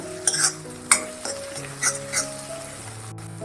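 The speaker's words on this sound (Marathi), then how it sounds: "दोन मिनटं परतत राहायचं चांगलं परतून घ्यायचं" Green chilli thecha with turmeric sautés in oil in a pan, with a low sizzle and a few sharp scrapes and taps of a stirring spoon, with no talk.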